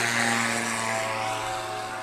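A STOL propeller airplane taking off at a Swamp STOL competition in Jennings, Louisiana, a loud steady engine drone with sustained propeller harmonics, fading slightly toward the end, with no voices.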